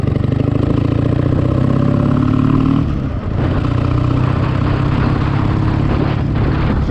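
A motorbike engine runs steadily after being shifted into second gear on a ride along the Dnipro, a loud continuous mid-pitched drone with a brief dip partway through, no talk over it.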